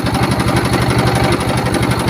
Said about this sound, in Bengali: তো আমরা সবাই নৌকায় উঠে বসার পরে মাঝি দিল ইঞ্জিন স্টার্ট